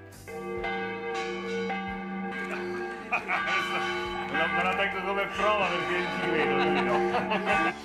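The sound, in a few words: church bells ringing in celebration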